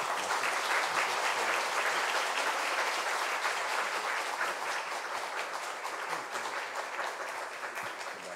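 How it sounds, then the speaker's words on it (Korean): A church congregation applauding at a Friday prayer service to welcome a visiting preacher, dense sustained clapping from many hands, loud and steady, tapering slightly toward the end. "큰 박수로 환영하겠습니다"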